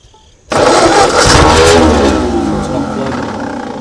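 A 1939 Ford tractor engine, left sitting in a field for over twenty years, catches and roars loudly up close, then settles into a rough, steady running drone as the throttle is eased down.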